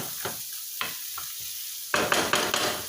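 Enchilada filling of vegetables and canned ingredients fries in a pan, with a few scattered spoon scrapes and stirs, then a louder burst of sizzling and stirring near the end, close by, no talking.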